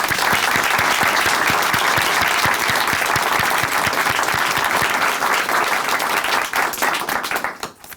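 Sustained applause from a church congregation during a Christian testimony program, a dense, steady wash of many hands clapping close and loud that carries evenly for several seconds before thinning out at the very end.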